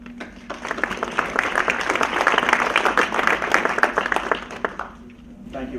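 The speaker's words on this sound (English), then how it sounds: "Can we get a round of applause?" An audience at a transportation forum breaks into sustained applause, many hands clapping steadily and loudly for several seconds before the sound tapers off.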